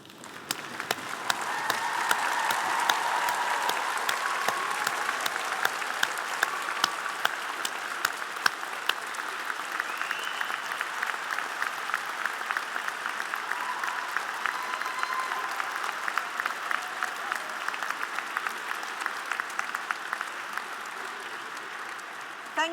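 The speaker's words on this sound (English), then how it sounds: "can you stand up and turn round and give them a round of applause?" Sustained applause from a graduation audience at the University of Lincoln's September 2019 ceremony, dense steady clapping that swells in the first seconds and holds for over twenty seconds with no talk on top.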